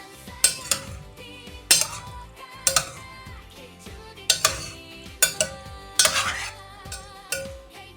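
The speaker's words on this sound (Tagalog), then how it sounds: "At ayan, ating haluin ng maganda." Fusilli pasta with broccoli and fish fillet being stirred into sauce in a pan, heard as sharp utensil clinks and scrapes against metal in irregular close strikes, with no talking.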